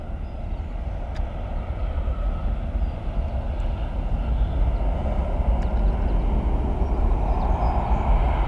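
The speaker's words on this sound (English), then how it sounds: "There's another plane behind it taking off too over there." A jet airplane takes off from a Cleveland airport runway, giving a steady, broad engine roar at some distance that swells slightly over several seconds, with no talking.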